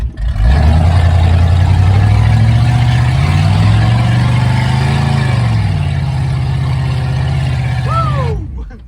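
A demolition derby car engine runs loud and close, holding a rough idle and swelling with several throttle blips that rise and fall in pitch before cutting off abruptly.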